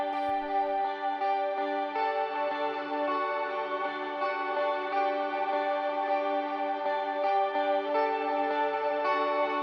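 Sustained electric guitar chords through a Strymon Big Sky MX reverb pedal wash out into a lush, shimmering reverb, notes blending into a long ambient swell with no talking.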